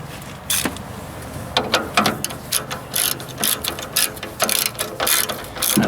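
A ratchet wrench turning a 1/2 inch socket on a 1944 Ford 2N tractor clicks in close, repeated bursts of rapid pawl ticks with short pauses between strokes and no talk over it.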